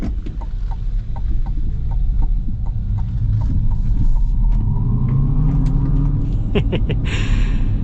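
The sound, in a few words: 2025 GMC Hummer EV 3X SUV accelerating hard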